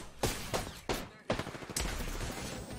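Loud gunfire in an online shooter video game, several sharp separate shots in the first second and a half followed by a rapid burst of automatic fire, close and harsh.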